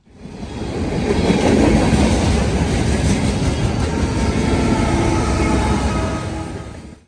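A CSX freight train led by an ES40DC locomotive rolls past with a loud, sustained rumble and clatter that rises quickly, holds steady, then fades.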